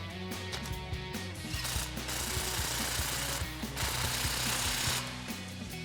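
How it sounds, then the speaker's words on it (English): A 15mm socket ratchet tightening a Flowmaster exhaust clamp on a 2021-2023 Ford F-150, giving rapid rhythmic clicking in steady runs, close and alone. "we can take our 15mm socket to tighten down our clamp"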